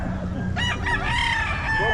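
A gamefowl rooster crows once, close and loud, a rising then sustained cock-a-doodle-doo lasting over a second, with low background noise and faint murmuring around it.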